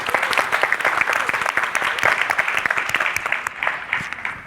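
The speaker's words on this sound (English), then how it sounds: "Applause, please." Audience applause at a corporate sustainability talk, following the introduction of the Golden State Warriors' sustainability manager: dense, steady clapping from a large crowd, sustained loudly throughout and easing slightly at the end, with no voices over it.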